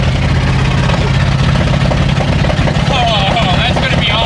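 A 1990 Ford F250 plow truck engine roars loud and steady from close by, with a hard rushing jet of air blasting out of the exhaust.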